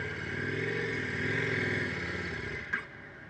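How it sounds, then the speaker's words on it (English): An adventure motorcycle creeps slowly over an obstacle, its engine holding a steady, close, low-revving drone, with a brief sharp clunk near the end. "I'm just going to kind of creep the bike over the top of this to find out what's my ground clearance like"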